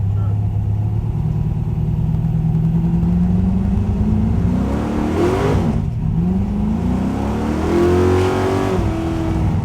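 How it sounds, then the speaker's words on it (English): A 1970 Pontiac Trans Am V8 roars as the throttle is squeezed, its deep exhaust note swelling, dipping briefly, then climbing again, loud and close with a little speech over it. "Alright, squeeze on the throttle here a little bit."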